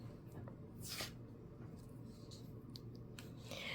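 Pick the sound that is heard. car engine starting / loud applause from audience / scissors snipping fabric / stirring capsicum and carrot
scissors snipping fabric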